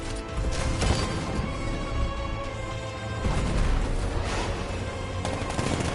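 Tank cannon fire and combat in Batman: Arkham Knight, loud and close, with dense bursts of blasts, rattling gunfire and mechanical clanks piling up and surging again midway.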